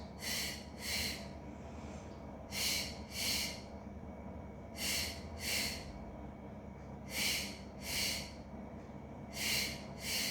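Exercise breathing during a pregnancy workout, sharp paired exhales through the nose repeated in a steady rhythm about every two seconds, close and forceful with quiet pauses between pairs.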